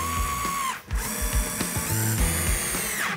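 A power drill boring into a door panel during a home repair job, whirring in several short bursts of rising and falling pitch with brief pauses between, loud and close, no talk.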